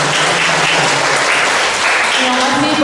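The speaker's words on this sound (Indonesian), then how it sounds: "Tepuk tangannya mana?" Applause from a gathered congregation at a farewell event for a friar, continuous clapping through the moment with some voices talking over it.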